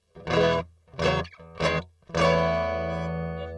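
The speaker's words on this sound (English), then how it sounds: "This is just the guitar with no effects." Electric guitar played clean with no effects: four distinct notes, the first three short and separated, the last left ringing and slowly fading, with a faint steady hum underneath.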